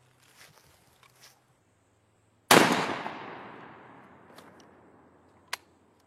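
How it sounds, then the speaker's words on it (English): A single loud shotgun blast firing a Federal TSS number 9 load through a Carlson Longbeard choke at 40 yards, with a sharp crack and a long, decaying outdoor echo, followed by a faint click. "So I'm going to shoot it at 40 through the Carlson choke, which is rated for heavy shot"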